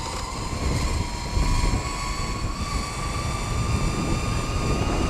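DIY electric bike motor accelerating under power, a loud steady whine with a rising tonal hum over rough rumbling wind and road noise, with no talking.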